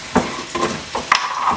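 Pork chops laid two at a time into a hot skillet give off a soft frying sizzle, with a few short scrapes and taps of utensils against the pan, close by and fairly quiet with no talking.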